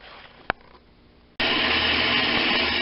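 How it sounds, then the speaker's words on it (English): A bandsaw blade cuts through a hardened steel PTO shaft extender for a mini backhoe, kicking in abruptly after a quiet start as a loud, steady broadband grinding hiss that runs without pause to the end. "there's the blade on the bandsaw cutting through that PTO shaft extender"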